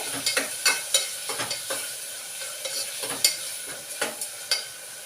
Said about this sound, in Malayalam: കുറച്ച് വഴണ്ട് വരുന്നുണ്ട് കേട്ടോ